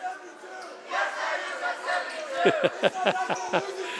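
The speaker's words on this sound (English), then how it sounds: "I think that's a cheer the Wave stage crews like to use when they win" Crowd at a 2017 high school basketball game between Greenville Greenwave and Fort Recovery Indians chants a rhythmic team cheer after an overtime win, several sharp shouted bursts in steady rhythm over busy gym noise.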